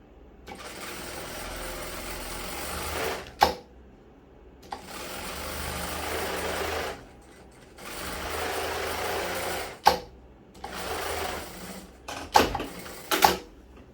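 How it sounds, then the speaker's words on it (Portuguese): A sewing machine stitches a zippered fabric pouch with waterproof lining, running in four steady bursts of a few seconds each, separated by short pauses and sharp clicks as the fabric is adjusted; no talk. "Alinha bem com o fim da peça e vem costurando devagar, para ficar bem certinho."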